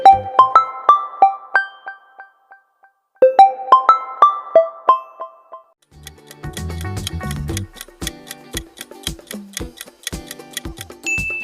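OnePlus mobile phone ringtone: a bright, plucked melodic phrase played twice, then a busier tinkling, ticking electronic pattern, clear and close with no talk.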